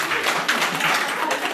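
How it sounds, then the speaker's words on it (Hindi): Audience clapping at a village cultural program, a dense burst of hand claps from a crowd that stays lively and even, with voices mixed in underneath. "जोरदार तालियां"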